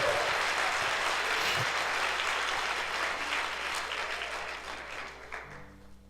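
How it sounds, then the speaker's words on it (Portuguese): Church congregation applauding during a Sunday worship service, a steady wash of many hands clapping that holds loud and then slowly fades toward the end. "e dê um aplauso a Jesus."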